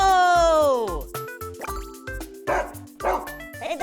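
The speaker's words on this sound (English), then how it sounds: "Hey, there's a dog." A dog in a video game barks in a quick series of sharp yips and woofs, mixed with bright electronic game sound effects and dripping liquid noises.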